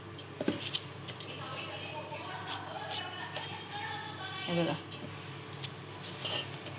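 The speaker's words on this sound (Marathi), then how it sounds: "त्यासाठी इथे आपण कलिंगडच्या फोडी आधी कापून घेतोय, कट करून घेतोय म्हणजे मिक्सरच्या भांड्यात" A knife cutting watermelon into pieces over a mixer jar, giving clicks, taps and wet squishy cuts at close range, with someone talking over them.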